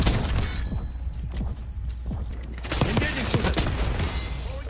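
Gunfire in a Black Ops 6 multiplayer match: a steady barrage of sharp, close shots and impacts cracks loudly throughout, with repeated rapid bursts layered over game noise.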